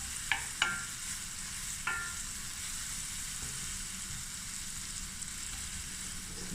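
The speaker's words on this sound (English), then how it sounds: "now we're just going to stir fry this for a few minutes" Mussels stir-fry in a hot pan with a steady, moderately quiet sizzle, broken by a few sharp clinks and scrapes of stirring near the start.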